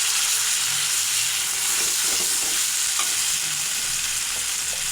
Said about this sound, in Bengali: তেলটা গরম হয়ে গেছে, এখন মিষ্টি কুমড়া খোসা বাটাটা দিয়ে দিলাম।